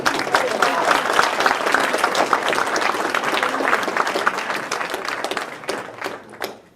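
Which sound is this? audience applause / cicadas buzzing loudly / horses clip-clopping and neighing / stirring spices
audience applause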